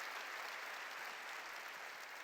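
Congregation at a 2015 New Year church revival service breaks into steady, sustained applause, an even wash of clapping with no voices on top.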